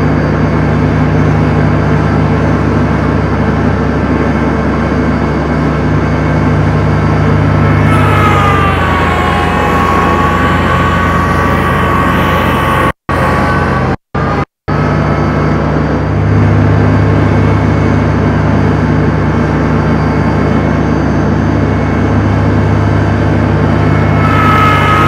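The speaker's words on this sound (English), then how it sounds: "we will mow the bank on the pond with the Land Pride finish mower" A Kubota L3301 tractor in four-wheel drive runs a Land Pride finish mower along a pond bank, a loud steady engine drone with a shift in pitch partway through and a couple of brief dropouts.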